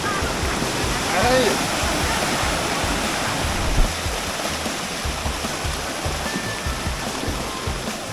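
Steady rushing water roars broadband and continuous from Salatdai waterfall in Nakhon Nayok, Thailand, close by, with faint voices briefly audible beneath the wash.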